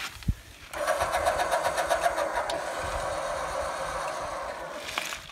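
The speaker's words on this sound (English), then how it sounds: "And that runs the jack stand up and down." An electric jack stand on a travel trailer runs with a steady mechanical whir and a fine repetitive ticking for about four seconds after a brief click, close and fairly even, stopping near the end, with no voices.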